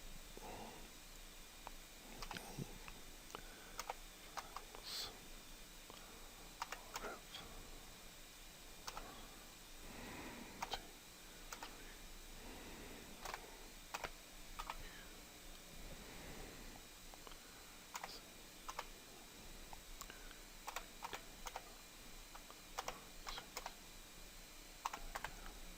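A computer keyboard tapped steadily as a Windows 7 product key is entered, giving soft, close clicks in irregular runs over a faint constant hum, with no talking.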